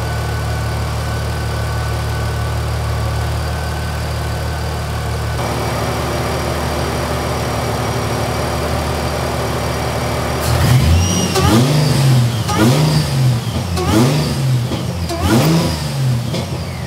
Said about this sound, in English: let it run for a while, make sure there's nothing crazy, and then we'll give it a couple revs